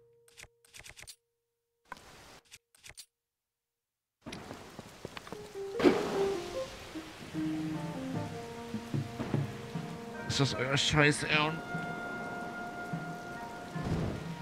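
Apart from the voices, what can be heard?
rain in the Labella swamps, video game Zelda Tears of the Kingdom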